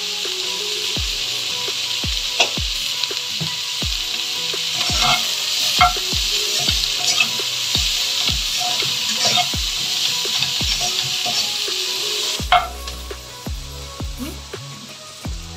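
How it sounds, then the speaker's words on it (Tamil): Chopped onion and capsicum, salted, sizzle steadily in a pan while a utensil scrapes and knocks against it at frequent, irregular intervals, close and clear with no voices. "இதை நம்ம ஃப்ரை பண்ணுறோம்"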